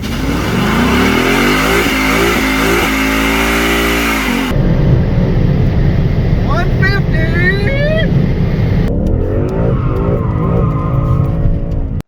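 A 2017 Ford Mustang GT base model with the highest axle ratio runs at full throttle, its engine note climbing loudly through the gears with shifts, then a shrill skid-like whine and road roar near the end, while a voice speaks briefly.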